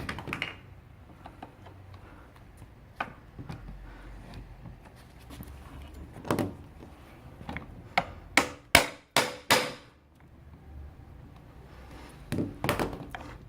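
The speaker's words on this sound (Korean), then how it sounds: "망치로 틈을 만들어 줍니다" Hammer taps used to pry open a gap at an office chair caster bracket, a series of sharp metallic knocks, with a tight cluster of loud strikes in the middle and lighter taps scattered before and after, close up.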